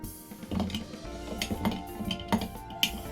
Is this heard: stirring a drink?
yes